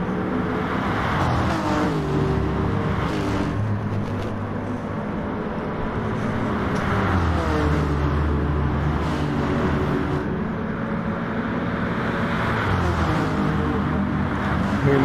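A Honda NSX race car drives at Monza in a racing game, its engine droning steadily loud and close with rising and falling revs through gear changes, and no talking over it.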